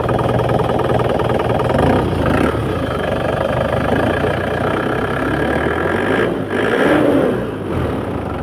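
The engine of a 2012 Isuzu Panther Grand Touring with low mileage runs loud and close, with a steady idle rising into short revs of the throttle.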